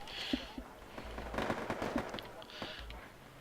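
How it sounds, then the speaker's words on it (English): Video game gunfire in Wargame: AirLand Battle: scattered sharp bursts and distant booms crackle over a rumbling battlefield backdrop, with a voice talking faintly underneath. "Where's that gunfire coming from?"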